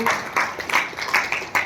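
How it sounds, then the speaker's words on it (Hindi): Audience clapping at a poetry reading event in Satna, with bursts of applause rising and falling in a steady, fairly loud crowd ovation. "दिल से जोरदार ताली बजाएंगे।"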